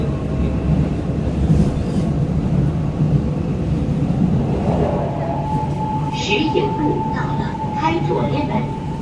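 A Shanghai Metro train rumbles along steadily with a low, continuous roar, while a voice talks faintly partway through and a tone hums near the end.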